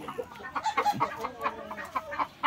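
Texas White Kelso gamecock roosters on a farm cluck and make short squawks close by, a quick irregular run of calls with no talking.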